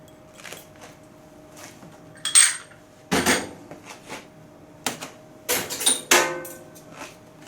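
Mayonnaise and imitation crab get mixed in a bowl, a run of sharp utensil clinks and scrapes against the bowl coming in irregular bursts, close and fairly loud, with a quiet hum between.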